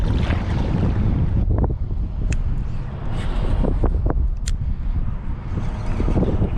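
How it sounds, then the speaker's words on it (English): Strong wind buffets the microphone outdoors on a fishing trip, a loud, steady broadband roar with gusting swells and faint water sounds, with no talking. "This wind is a killer."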